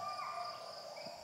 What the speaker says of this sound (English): this is the sound of Indonesia and Sumatra.